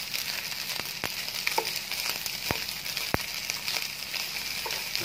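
Fried rice sizzles steadily in a hot pan while a utensil stirs it, making a continuous crackling hiss with a few sharp scraping clicks spread through the stretch. No voices.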